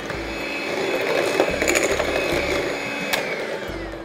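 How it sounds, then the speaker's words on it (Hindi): Salted butter beaten with condensed milk by an electric mixer makes a loud, close motor whir that wavers and pulses as the beaters churn, with a sharp knock near the end. "मैं यहाँ पे ले रही हूँ सॉल्टेड बटर ही, और इसे हम बीट कर लेंगे थोड़ा कंडेंस मिल्क के साथ"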